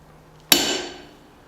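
One sharp metallic clang as a hammer strikes a straight-bladed chisel on steel flat bar being forged into tongs, ringing briefly and fading within a second, close and alone.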